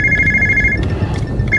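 A telephone rings loudly and close with a sustained electronic bell tone that stops and then briefly resumes, with no talking over it.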